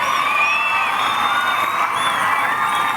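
A crowd cheers and shouts continuously at the opening of a Punjab sports games event at the polo ground in Patiala, with high whoops and children's voices forming a loud, dense wash.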